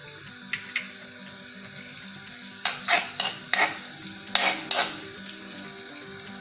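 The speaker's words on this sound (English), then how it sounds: "Now first let us add the ginger and garlic." Ginger and garlic frying in hot oil in a kadhai over a high flame, a soft constant sizzle with several sharp stirring scrapes and clinks near the middle.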